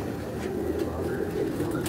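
Sialkoti pigeons in a rooftop cage coo in a low, continuous warble that sits close and dense over a constant background hum.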